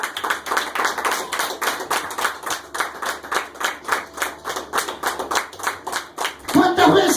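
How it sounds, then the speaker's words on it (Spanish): A church congregation claps in a brisk, even rhythm, many hands striking together close by for several seconds before voices rise up near the end. "Dale un aplauso al Señor Jesús."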